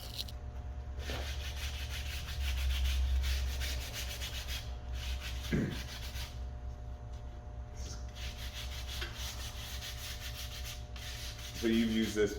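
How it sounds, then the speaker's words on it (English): Sandpaper rubs on a wooden walking stick in a continuous scratchy hiss, close and steady with slight changes in stroke pressure, briefly pausing before resuming. "So you use this sandpaper."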